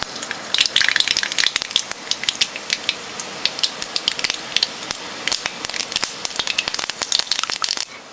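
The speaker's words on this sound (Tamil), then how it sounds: "கடுகு வெடிச்சிட்டு" Mustard seeds spluttering in about three spoons of hot oil in a pan, a close, loud run of sharp pops and crackles over a steady sizzle, bursting in irregular clusters throughout.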